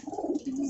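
A pigeon coos once, close and fairly loud, inside a pigeon loft on a large farm, a short low throaty call with no voices.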